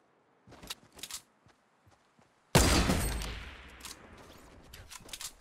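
Fortnite gunfire: a few faint clicks and small pops, then a sudden loud burst of shots that rings out and tails off, followed by scattered distant reports.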